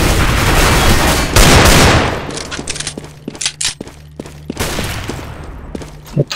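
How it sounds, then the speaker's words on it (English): Rapid, loud bursts of gunfire and explosions in a Counter-Strike: Global Offensive match, a dense blast of noise followed by a string of sharp cracking shots and thuds. "Throwing a flashbang."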